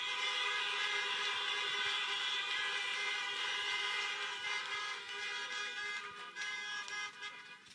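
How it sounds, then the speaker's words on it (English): Car horns honk together in a long, sustained chorus at an outdoor drive-through high school graduation for the class of 2020, loud and steady before thinning into scattered toots toward the end. "let's hear the honks for this group."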